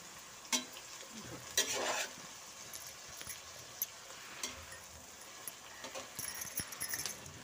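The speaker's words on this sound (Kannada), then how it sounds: "ಅದನ್ನು ಕೂಡ ಎಣ್ಣೆಯಲ್ಲಿ ಸ್ವಲ್ಪ ಫ್ರೈ ಆಗಬೇಕು" Long brinjal pieces frying in oil in a pan for vangi bath, with faint sizzling and a few irregular scrapes and clinks of a stirring spoon, quiet and close.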